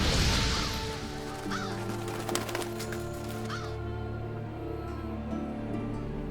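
Revoltures, black scavenger birds in the Ancient Forest of Monster Hunter World, give a few harsh caws over a low, droning game ambience, with no talk.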